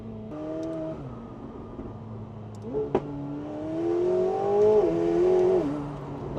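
McLaren 750S Spider driving quickly, its engine note rising and falling through smooth revs from inside the car, with a brief sharp click midway and a louder surge toward the end.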